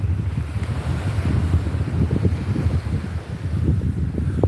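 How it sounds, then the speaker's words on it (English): Bitter northeasterly wind on a seaside promenade, a continuous loud roar and buffeting against the microphone, with surf rumbling beneath and no talking. "You got this bitter northeasterly wind."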